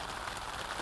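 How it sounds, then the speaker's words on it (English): Steady rain patters on a tent in Waterton Lakes National Park, a dense, even hiss of drops filling the short moment with no voices. "taken refuge inside of our tents for now until the rain passes"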